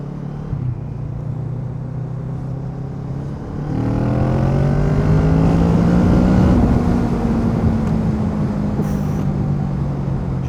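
A Kawasaki Z650 motorcycle fitted with an Akrapovic exhaust accelerates hard, its loud engine note climbing steadily through the revs before holding at a high drone, with no talking.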